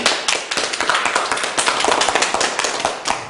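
A church congregation claps enthusiastically, dense rapid applause filling the room without pause.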